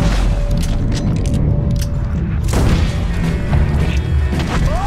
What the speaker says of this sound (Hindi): कौन चला रहा है इतना गोलियां,